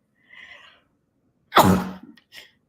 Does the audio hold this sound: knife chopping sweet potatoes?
no